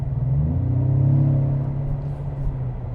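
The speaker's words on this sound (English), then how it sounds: "I'm actually hearing a lot more throaty sound from the engine." A 2025 Ford Explorer ST Line in sport mode revs with a deep, throaty rumble that swells and then settles into a steady low drone, heard from inside the cabin with no talking.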